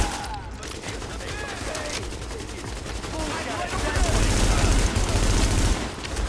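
Rapid bursts of gunfire from The Division video game crackle continuously at moderate loudness, dense overlapping shots and automatic fire swelling toward the end.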